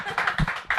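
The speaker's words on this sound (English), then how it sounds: "I think we need another round of applause." A short burst of audience clapping during a live music show at the Hive, several hands striking together quickly for under a second, moderately loud and close.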